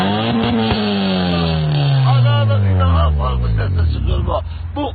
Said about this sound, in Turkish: Arada egzoz bu sesle bu.